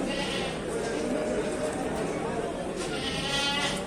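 A young goat, an Aleppo goat, bleats amid a busy crowded livestock market with chatter and animal noise, steady and fairly loud throughout.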